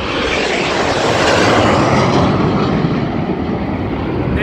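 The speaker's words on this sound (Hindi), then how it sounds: "ये देखें ये जहाज आ रही है" A propeller airplane roars loudly and close overhead during Saudi Founding Day celebrations, a dense engine drone that swells and holds for several seconds with no talking.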